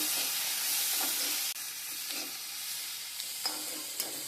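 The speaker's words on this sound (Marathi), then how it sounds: "अर्धा चमच हळद टाकूया आणि एकजीव मिश्रण करून घेऊया।" Vegetables with turmeric and salt being stirred in a hot pan: a continuous close sizzle with soft scraping strokes of a spoon against the pan, no talking.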